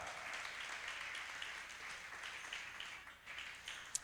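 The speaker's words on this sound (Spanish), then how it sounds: "Dale un aplauso al Señor por la palabra." Congregation at a Spanish-language Christian church service clapping after the sermon, a faint, distant wash of applause that stays fairly even, dips briefly near the end, then carries on.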